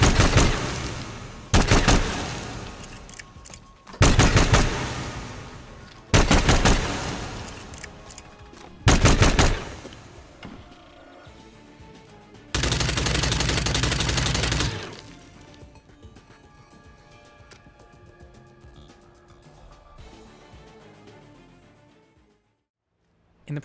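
Broken Concept 5 gun from Hitman firing in loud, sharp bursts: five abrupt shots with ringing tails, then a sustained two-second blast that cuts off, leaving a quieter, fading echo.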